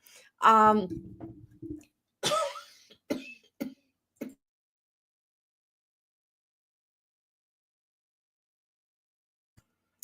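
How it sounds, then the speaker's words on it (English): Several dry coughs in quick succession, close and loud, then the room falls quiet. "For some reason today I have the coughs."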